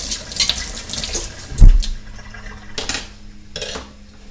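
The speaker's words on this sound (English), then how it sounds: "I'm going to rinse those utensils off right away." Kitchen utensils are rinsed under a running tap, with water splashing into the sink and a sharp clink of metal partway through, close and fairly loud.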